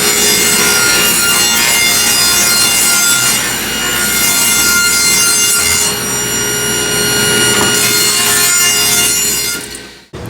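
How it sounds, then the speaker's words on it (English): A handsaw or saw cuts strips from a cedar fence picket in a continuous, loud, rasping sawing that runs nearly unbroken, with a couple of brief pauses and a final stop. "Now we're going to cut a couple 7/8 inch strips out of our cedar fence picket."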